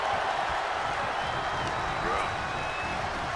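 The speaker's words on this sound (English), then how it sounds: "The sound of this crowd is deafening" A video game wrestling crowd in WWE 2K22 roars in a steady, dense wash of cheering at a staged SuperBrawl 97 match, with a commentator talking over it.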